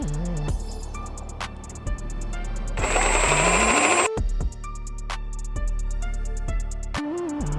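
A jigsaw cuts through a broken window frame in repeated bursts, its motor whining up and buzzing as the blade chatters through, stopping and restarting several times, with one harsher grinding stretch in the middle, close and loud.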